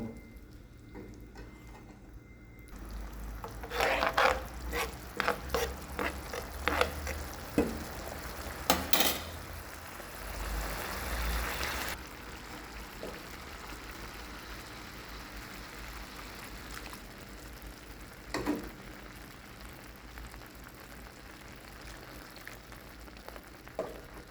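Moong dal halwa cooks in milk in a pan, with a low simmering sizzle and repeated scraping stirs and clinks of a spoon against the pan, moderately quiet throughout.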